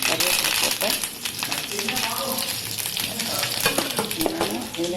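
Mustard seeds, dried red chillies and curry leaves sizzling and crackling in hot oil while being stirred, a loud continuous fry with scratchy spoon scrapes and pops, with a voice talking over it.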